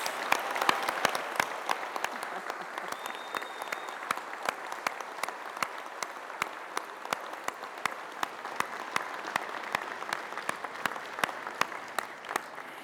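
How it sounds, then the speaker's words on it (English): Applause at a doctoral graduation ceremony, a sustained patter of many hands clapping in a large hall, even and moderately distant with crisp individual claps throughout. "Let's give them a rousing applause"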